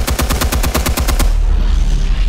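Falcone fires a rapid burst of gunshots in Batman: The Telltale Series, about a dozen loud, evenly spaced shots in quick succession, then a lingering low rumble as the firing stops.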